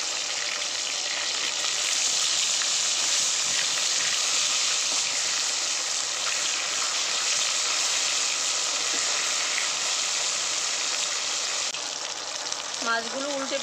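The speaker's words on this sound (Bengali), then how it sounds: "মাছগুলো উল্টে পাল্টে ভালো করে ভেজে নিলাম" Koi fish frying in hot mustard oil in a wok, a steady loud sizzle with dense crackling throughout, and a brief voice speaking near the end.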